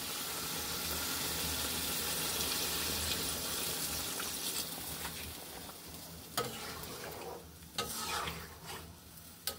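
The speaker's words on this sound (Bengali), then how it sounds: "এখন হালকা একটু পানি দিয়ে দিব।" Chicken gizzard, liver and feet fry in a pan with a steady loud hiss that eases as water goes in, followed by scattered scraping and clattering of a stirring utensil, close up with no talk.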